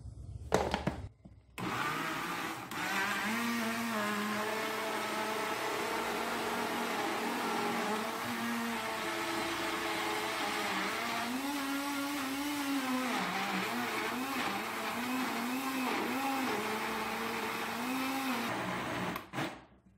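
An electric mixer beats apple cinnamon cake batter: a continuous, fairly loud motor whine runs for many seconds with slight shifts in pitch, after a short clatter at the start.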